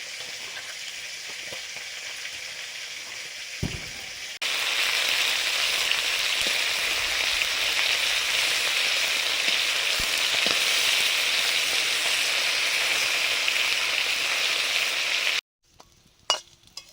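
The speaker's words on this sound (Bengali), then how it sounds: "মাছগুলো ভাজা হয়ে গেছে" Small puti fish sizzle and spit in hot oil in a home kitchen, a steady dense frying hiss that swells louder midway and then cuts off abruptly near the end, followed by a few clinks.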